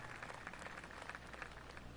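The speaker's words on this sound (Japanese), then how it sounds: "しかも拍手。" Applause from the crowd in a PGA Tour golf video game, a brief, steady burst of many hands clapping, slightly muffled and fairly faint.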